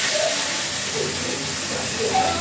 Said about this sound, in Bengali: এখান থেকে তুলে একটু পানি দিয়ে দিব জালি থেকে